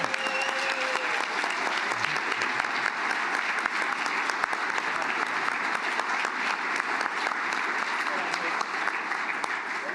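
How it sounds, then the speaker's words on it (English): An auditorium audience claps loudly and continuously, a dense, even wash of applause sustained for the whole stretch. "let's have a round of applause for every single one of you that travelled everywhere. And I want to hear a loud, loud applause."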